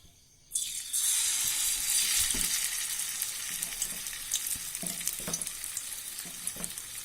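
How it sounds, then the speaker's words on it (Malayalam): Chicken 65 pieces dropped into hot oil for deep-frying, a sudden loud, dense sizzle bursting in after a quiet start and then holding steady and close, with occasional soft pops and knocks underneath. "ഓയിലിപ്പോൾ നന്നായിട്ട് ചൂടായിട്ട് വന്നിട്ടുണ്ട്. ഇനി നമുക്കിതിലേക്ക് ചിക്കൻ ആഡ് ചെയ്ത് കൊടുക്കാം."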